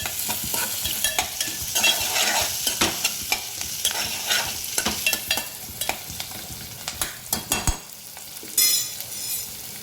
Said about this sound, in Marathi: आता हा कांदा थोडा परतून घ्यायचा